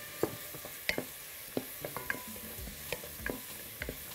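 Onion and rice stir-fried together in a pan for a spinach tray bake, with scattered spoon scrapes and light sizzling ticks against a soft, steady hiss, fairly quiet and without talk.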